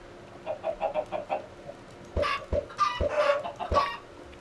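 Video game chickens clucking in a short run of soft repeated clucks, followed by several sharper, louder clucks and squawks, with no speech.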